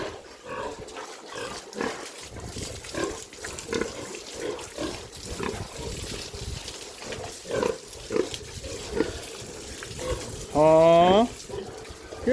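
A pig eats bananas, with wet chewing and grunting snorts close by and one louder squeal near the end, while a person talks over it.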